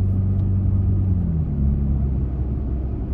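A Toyota Tacoma's automatic transmission, running in sport mode, shifts from fourth into fifth gear while cruising around 43 mph. A loud, steady low engine drone dips slightly in pitch partway through, with no talk.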